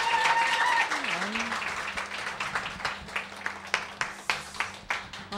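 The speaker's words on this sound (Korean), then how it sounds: "큰 박수로 예, 격려해 주시기 바랍니다." Audience applause at a Korean church-style gathering, starting under a brief spoken voice and then a run of scattered claps at moderate level, somewhat sparse toward the end.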